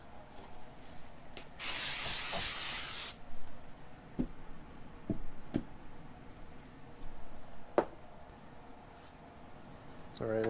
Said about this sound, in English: so I'll spray it again.